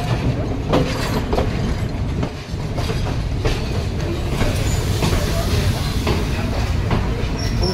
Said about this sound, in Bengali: পৌঁছে গেছে আমাদের ট্রেন এলাতে